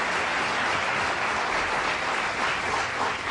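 A steady wash of clapping from a large television studio audience, dense and even throughout, with no voices over it.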